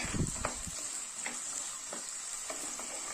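Potato, carrot, beans and dried green peas sauté in a pan for a Sadhya masala curry, a soft, even sizzle broken by a few light spatula scrapes and taps.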